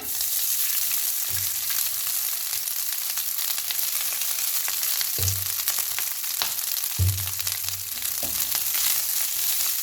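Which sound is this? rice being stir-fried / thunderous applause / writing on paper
rice being stir-fried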